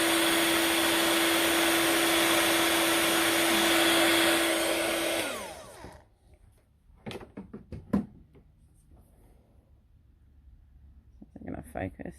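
A heat tool blows hot air on a card sentiment for heat embossing, a loud steady whirring hiss with a hum underneath that winds down and stops midway, followed by scattered clicks and quiet handling noises.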